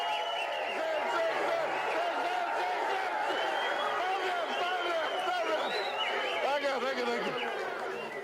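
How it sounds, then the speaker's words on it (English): A dense outdoor crowd at an election rally in Tari, Papua New Guinea, chatters and calls out in a steady, loud wash of many voices, with scattered shouts and laughter throughout. "But today, the crowd is in good spirits."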